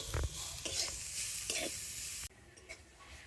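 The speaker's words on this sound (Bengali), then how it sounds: "আর এবার আমি এইভাবে নাড়াচাড়া করে একটা পুর তৈরি করে নেব।" Ripe mango filling with sugar and cardamom being stirred in a hot pan, a close sizzling scrape with spoon strokes that stops abruptly, leaving faint quiet background.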